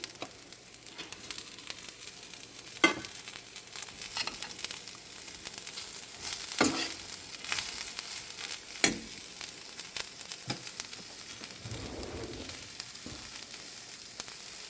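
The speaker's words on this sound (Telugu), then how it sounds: "దోరగా వేగిన తర్వాత సన్నగా తరుక్కున్న క్యాబేజీ అయితే అలా వేసేసుకోవచ్చండి చక్కగా మగ్గిపోతుంది" Finely shredded cabbage frying in hot oil with a tempering of spices, a steady close sizzle with a few louder stirring scrapes now and then, no talking.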